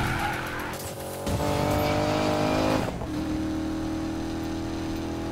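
A Corvette drifts in Need for Speed Payback during a drift challenge, its engine roaring loud and close while the tires squeal in long skids and the revs shift as it slides.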